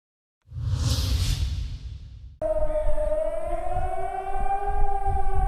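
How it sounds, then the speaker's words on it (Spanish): Air raid sirens sounding across cities in Cyprus at dawn, a loud wailing civil defense siren tone rising and holding steady after a burst of whooshing noise, no talk. "A las 5:30 de la madrugada del lunes sonaron las sirenas antiaéreas en todas las ciudades de la parte libre de Chipre"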